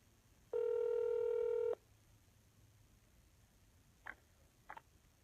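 A telephone keypad tone sounds once as a steady, clear beep lasting about a second during a call to a detention center line, followed by two faint, short clicks on a quiet, hissy line.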